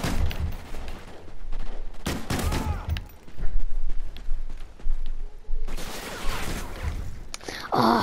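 Gunfire in a video game shooter, bursts of rapid shots coming in clusters with brief gaps, loud and close in the mix.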